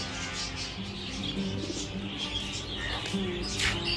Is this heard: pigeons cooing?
yes